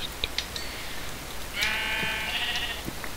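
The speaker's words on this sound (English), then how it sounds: "How come it sounded like there was more than one sheep there?" Minecraft sheep bleat in the game, a few short high bleats followed by one longer wavering bleat, fairly close and clear over a quiet background with no talking.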